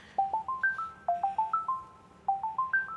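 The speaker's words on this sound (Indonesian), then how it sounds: "Telepon sopo iki." A phone ringtone plays a bright, repeating melody of rising electronic tones, loud and close, looping three times with a short pause between rounds.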